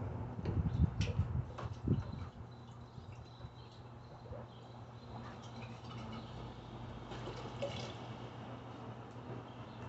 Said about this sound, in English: So after I do that, I rinse everything off.